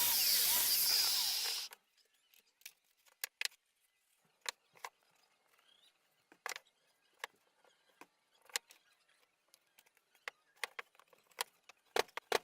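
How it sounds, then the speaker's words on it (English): A biscuit jointer plunges into wood to cut joining slots, giving a loud, dense whirring burst of under two seconds, followed by scattered faint clicks and knocks as the work is handled. "working off the bottom of the biscuit jointer, we're going to cut our slots into the corresponding lines"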